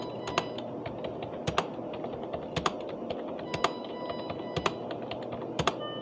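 Someone types data into an Excel spreadsheet on a computer keyboard, a steady run of close keystrokes with a few sharper, louder key hits over a low room hum. No one speaks.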